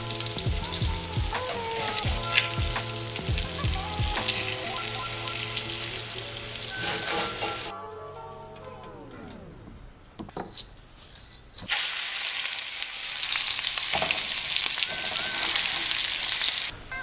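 Chicken pieces frying in hot oil at about 160 degrees, a loud steady sizzle that drops away for a few seconds before returning full and crackling.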